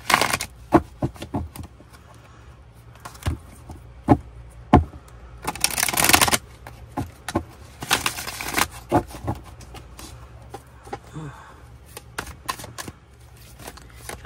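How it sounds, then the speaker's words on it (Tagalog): Cards being shuffled by hand for a tarot-style reading, a series of quick riffling bursts and soft taps with a few longer shuffles, close and alone without talk. "atin muna pong balasahin"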